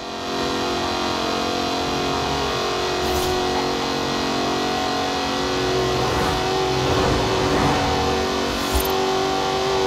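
A Jaguar Project 7 engine in Forza Horizon 4 hums and revs steadily, close and loud, with a brief rise in intensity midway and no speech.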